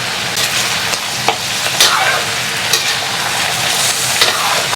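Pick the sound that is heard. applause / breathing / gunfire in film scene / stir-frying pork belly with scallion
stir-frying pork belly with scallion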